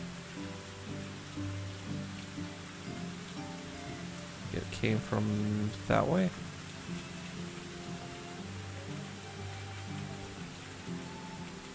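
In a video game, steady rain hisses and patters across the scene beneath a low musical drone, while a voice speaks briefly and a couple of sharper clicking bursts stand out mid-clip.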